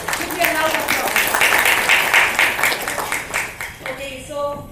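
An audience applauds award winners at an academic talk on supply chain modeling, with a steady wash of clapping that swells and fades over several seconds, and a voice speaks over it.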